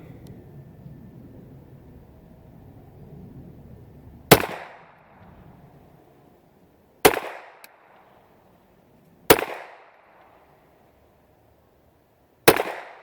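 Old used Ruger Mk II pistols firing four sharp, loud gunshots spaced a few seconds apart outdoors, each with a brief decaying ring, after an opening stretch of low background rumble.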